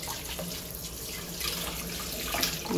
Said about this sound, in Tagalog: So yung malunggay ibababad ko sa tubig.